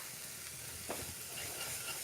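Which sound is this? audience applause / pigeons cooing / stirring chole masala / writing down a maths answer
stirring chole masala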